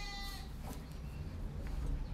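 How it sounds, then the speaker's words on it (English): Baby goats bleat in short, high, wavering cries, a couple of times early on, over a steady low rumble of outdoor background noise. "Can you guys hear the baby goats?"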